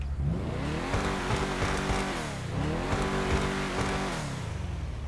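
Engine of a Chop Shop DLC car in GTA 5 Online, revving loudly and steadily with the pitch climbing and dropping through gear changes, tires squealing underneath, no talk.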